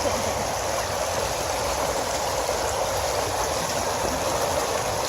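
Steady running water from a gold sluice box set in a creek with fairly low flow, a continuous broadband rush and gurgle close by with no talk over it.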